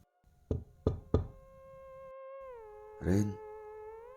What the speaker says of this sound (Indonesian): Lina mengetuk pintu itu